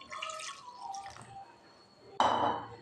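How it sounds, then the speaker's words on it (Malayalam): Milk poured into a mixer jar for a Kit Kat milkshake, a sudden close splashing pour that starts late and runs to the end, after quieter clinks and faint voice-like sounds. "അപ്പോൾ പാല് നമ്മൾ ഒഴിക്കുകയാണ്"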